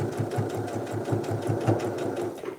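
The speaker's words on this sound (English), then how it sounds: "So I'm really gonna take my time here sewing these." A sewing machine stitches fabric at a slow, careful pace, its needle thumping in a quick, regular rhythm close up, with no speech.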